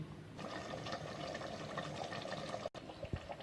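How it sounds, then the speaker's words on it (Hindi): Chicken nihari frying in a pan after half a cup of water is added, giving a steady bubbling, hissing sizzle close by with a brief clatter near the end. "इसमें आधा कप पानी डालकर अब हम इसे अच्छे से भूनेंगे"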